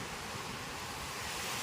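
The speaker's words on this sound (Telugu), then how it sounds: "ఎగురుతున్న ఎగిసిపడుతున్న అలలు." Steady roar of ocean waves surging on Negombo beach, Sri Lanka, a continuous broadband wash with wind noise, loud and close, no voices.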